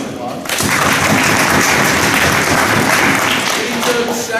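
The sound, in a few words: applause at a wrestling banquet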